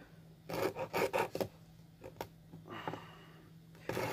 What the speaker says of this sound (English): then you're going to cut your little notch